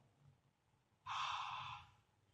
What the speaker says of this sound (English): if I give a breath, if I give a breath now